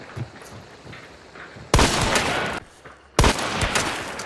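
In Hunt: Showdown, two loud, booming gunshots ring out about a second and a half apart. Each one leaves a long rumbling echo over quiet background ambience.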